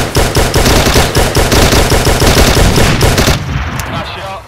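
Rapid automatic gunfire rings out in the World War II shooter game Hell in the Pacific. Loud close bursts are tightly packed for about three seconds, then the shooting stops and a fading echo follows.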